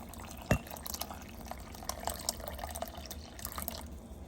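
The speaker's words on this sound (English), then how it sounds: "So now I'm gonna add a bit more water." Water is poured into a cooking pot for pasta, giving a soft, close, trickling splash with a few drips, quiet and with no talking.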